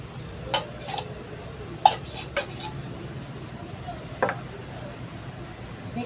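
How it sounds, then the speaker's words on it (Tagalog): A spoon scrapes condensed milk from the sides of a bowl while stirring a sago gulaman dessert mix, giving a few faint clinks and soft scrapes spread over steady low background noise. "Simutin lang natin ang condense para hindi sayang."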